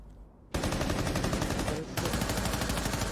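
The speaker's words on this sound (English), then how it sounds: "shots are now being fired." Rapid automatic gunfire from a Rainbow Six Siege esports match, loud dense bursts that begin suddenly, break briefly and resume, with no talk over it.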